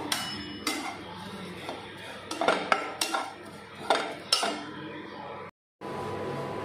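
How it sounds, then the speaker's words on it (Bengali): Oats dry-roasted in a dry pan while being stirred: irregular scrapes and sharp metallic clinks of a utensil against the pan, fairly close, with a brief silent gap near the end. "তো আপাতত ওটসটাকে আমি একটু শুকনো খোলায় নেড়ে নেব।"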